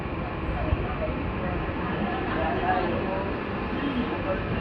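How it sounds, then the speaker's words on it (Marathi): A late-night Virar fast local train pulls out of Churchgate station in Mumbai, a steady rolling rumble from inside the carriage with a voice talking over it. "चर्ची स्टेशनवरून गाडी निघाली."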